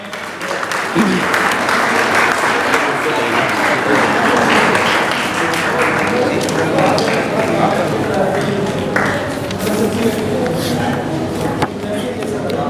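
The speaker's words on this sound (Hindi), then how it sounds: "तालियां" An audience at an award ceremony breaks into loud, dense applause that continues steadily for several seconds, with voices and cheering mixed into the clapping.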